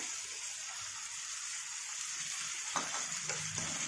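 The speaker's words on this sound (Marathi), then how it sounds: "टोमॅटो सुद्धा छान परतल्या जातं" Tomatoes sautéing in a pan with curry leaves and coriander, giving a steady low sizzle and frying hiss with a few stirring clatters near the end, faint and continuous without speech.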